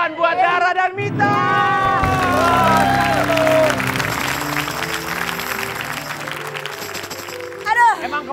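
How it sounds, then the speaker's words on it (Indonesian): Studio audience applause and cheering on an Indonesian TV variety show, mixed with music and the chatter of several voices, then fading under the talk. "Tepuk tangan buat Dara dan Mita."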